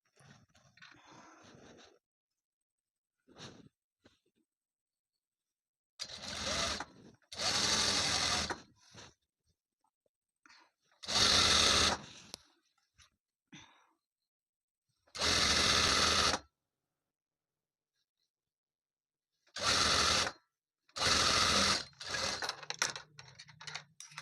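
A sewing machine stitches kurti fabric in several separate loud bursts of a few seconds each, with quiet gaps and small handling clicks between runs.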